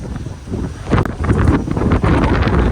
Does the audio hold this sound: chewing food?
no